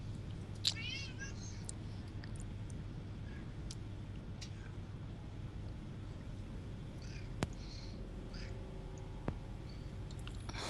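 A cat meows a few times, faint and brief, over a steady low hum and room noise during a tabletop game session.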